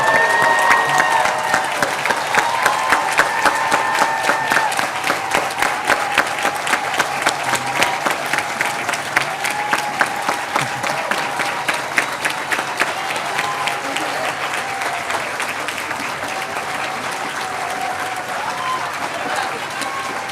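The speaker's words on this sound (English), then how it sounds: "let us give a warm round of applause for the Yale School of Medicine" A large audience at a medical school white coat ceremony for the Yale School of Medicine class of 2026 gives sustained, loud applause with rapid dense claps and some cheering, fading slightly toward the end.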